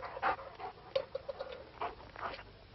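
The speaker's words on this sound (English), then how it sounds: "The dogs." Dogs panting and softly whimpering, quiet and close, in a tense scene of a monster film, with short breathy bursts and faint whines.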